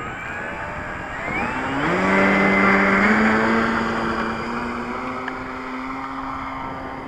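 A model Sopwith Camel biplane's engine drones steadily as the aircraft takes off. The whine rises in pitch and swells, then holds a sustained, fairly loud tone that fades slowly as the plane climbs away.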